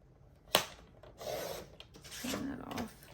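Paper being trimmed for a bee journal, a sharp initial snip followed by rasping, scraping strokes of cutting, close and fairly quiet.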